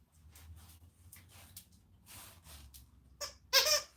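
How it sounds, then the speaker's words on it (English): A dog's squeaker toy gives a few short, sharp squeaks near the end, preceded by soft rustling and handling noises close by. "Where's your squeaker?"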